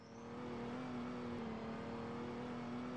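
A Corvette police car in the Roblox game Emergency Response drives with a steady, sustained engine drone and whir, constant in level throughout without pauses.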